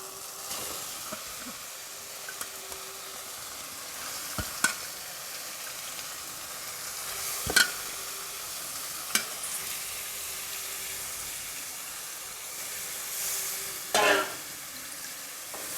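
Prawns frying in a pan for prawn gravy, with a steady sizzle and a few sharp clinks of a spoon stirring against the pan, close and moderately loud, no talking.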